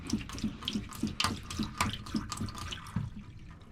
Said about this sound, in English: I have running water, but it is a foot pump.